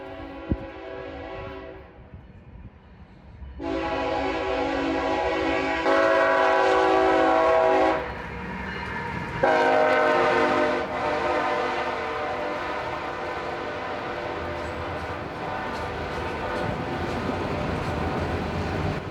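A huge CSX freight train on the former Monon line passes at about 40 mph, its horn blaring in long loud blasts over a rolling rumble of cars, close and continuous.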